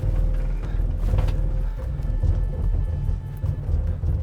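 Toyota Tacoma TRD Pro truck in off-road crawl mode, vibrating loudly with a dense, steady low rumble and rhythmic juddering pulses throughout, no talk over it.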